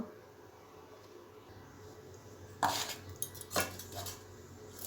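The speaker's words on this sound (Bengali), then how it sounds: "তো গ্রেটারের সাহায্যে এটা গ্রেট করে নিচ্ছি।" Fresh ginger and garlic rubbed against a kitchen grater give a couple of short, sharp rasping scrapes with some metallic clatter, close by and moderately loud against a quiet kitchen background.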